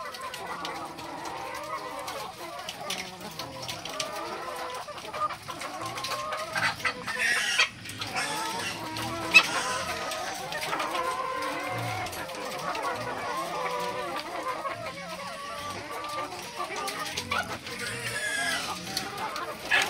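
Layer chickens cluck steadily nearby on a farm with occasional louder squawks and a rooster crow, a busy farmyard din without clear talk.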